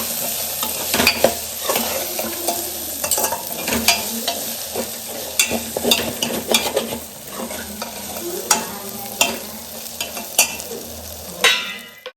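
Turmeric, salt, tomato and hand-ground spice paste sizzle and fry in a pot as a spoon stirs them, with steady crackling broken by repeated scraping strokes, close up and without speech.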